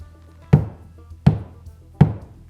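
Three evenly spaced knocks as a hand bangs on a 3D printed colour-changing object in a garage, each a solid close thunk with a short decay and no talk over them.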